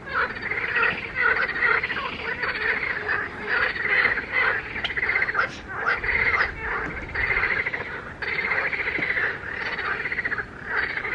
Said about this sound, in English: There's a frog going off as well down there.